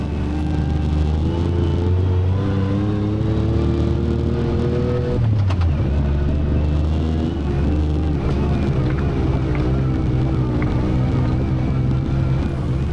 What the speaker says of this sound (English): Rich in his Yamaha YXZ 2016 model, highly modified and a 3-pedal model. So that's always exciting and it sounds great